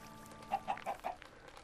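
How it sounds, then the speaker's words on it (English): A Minecraft chicken clucks in the game world, giving four quick, short clucks in a row, fairly faint and heard on their own without talk. "Is that a chicken? There's a chicken."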